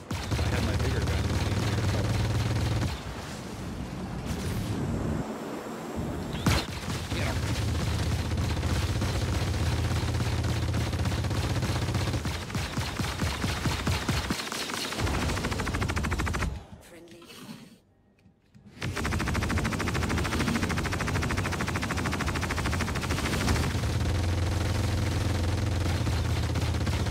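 Ship weapons fire in the space combat game Star Citizen, with a 600i fighting a Constellation and a Buccaneer. Loud, sustained bursts of gunfire run almost nonstop, broken by one brief lull partway through.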